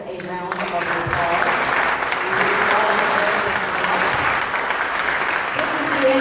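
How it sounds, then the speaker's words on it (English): Sustained applause from an audience at a business coalition forum for mayoral candidates, steady and full-bodied for several seconds, with some voices mixed in. "Let's give all of our candidates a round of applause."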